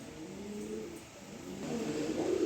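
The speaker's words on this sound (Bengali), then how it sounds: "খুব সুন্দর জটিল এক পেয়ার কবুতর" A pair of pet pigeons, offered for sale from a loft, coo softly in low, rolling calls that swell slightly louder toward the end over faint background hiss.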